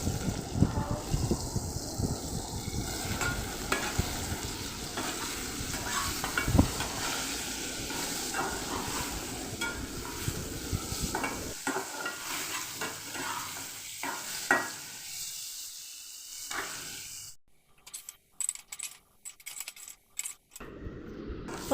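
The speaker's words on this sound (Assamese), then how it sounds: "এইফালে মই পাতি দিছোঁ পটল ভাজি" Sliced pointed gourd (potol) fries in a pan with a continuous close sizzle and hiss, punctuated by stirring clinks; the sizzling drops away and turns intermittent near the end.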